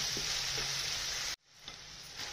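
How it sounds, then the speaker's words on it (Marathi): Onion and tomato sautéing in a pan for a cluster bean dry sabzi, a steady soft sizzle with faint stirring, briefly cutting out then returning quieter. "परतले गेले चांगलं कांदा टोमॅटो।"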